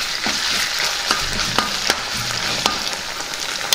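Ginger garlic paste fries in a pan for traditional beetroot rice, giving a loud close hiss with sharp spoon scrapes and taps at irregular intervals as it is stirred, with no voices.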